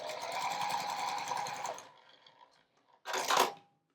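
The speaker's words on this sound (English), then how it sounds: "placing them right sides together and sewing a 1/4 inch seam across there." A sewing machine stitches a quarter-inch seam joining small scrap squares for a quilt, running fast and close for about two seconds, winding down, then giving one short final burst.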